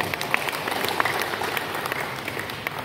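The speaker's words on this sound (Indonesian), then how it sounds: "Mari tepuk tangan untuk Pak Hatta." An audience at an agricultural ministry event applauds Pak Hatta, a ministry director, with steady, dense clapping sustained throughout, moderately loud and fairly close in the room.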